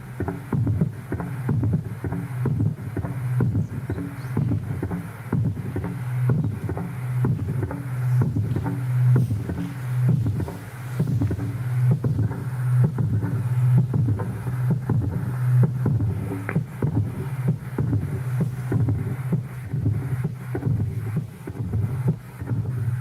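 A large engine or prime-mover machine runs at a recording site in Suseok-dong: a deep, steady drone with a faint rhythmic pulse, loud and continuous throughout with no voices.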